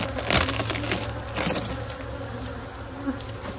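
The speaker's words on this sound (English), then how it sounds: "Full of bees." A dense swarm of honeybees buzzing as they pour out of a large hive, a loud, continuous droning hum with a few close bumps and crackles of the hive being handled.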